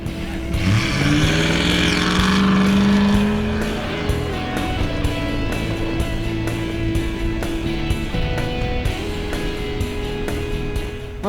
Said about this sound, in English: listen to the sound of the V8. It sounds beautiful.